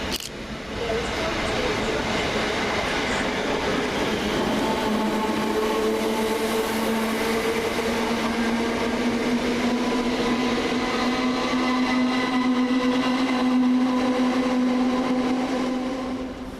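Class 321 electric multiple unit running through Romford station without stopping, a steady rumbling rush of wheels and motors with a rising tonal whine, loud and sustained throughout.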